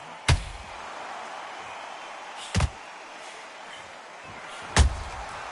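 Counter punches landing in the Undisputed boxing video game, three sharp, loud thuds spaced a couple of seconds apart over a low crowd murmur.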